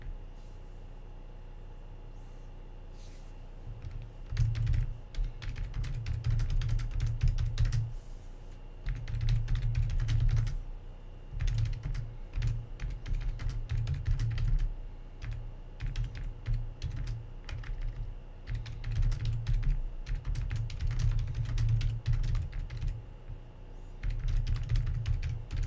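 Computer keyboard typing comes in bursts of rapid clicks with short pauses between them, close and clear over a low steady hum, with no voices.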